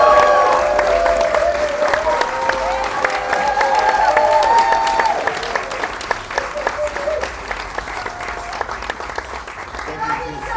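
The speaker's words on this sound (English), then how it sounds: "Can we give a motherfucking round of applause for these two?" Audience at The Loom in Oakland applauds two performers at a live show, dense clapping and some cheering that gradually tapers off, with a voice talking over it and musical tones ringing through the first half.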